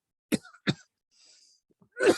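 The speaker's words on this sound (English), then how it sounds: "Sorry about the coughing." Two sharp coughs close to the microphone, then a pause and a third harsh cough at the end.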